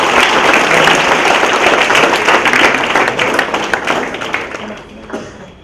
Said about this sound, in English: Please give a big round of applause, standing applause.